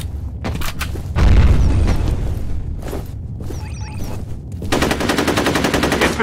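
Video game F.E.A.R. Combat firefight: a heavy grenade explosion booms loudly, followed by bursts of rapid automatic gunfire and scattered shots, a dense close-up barrage with a brief metallic clatter in between.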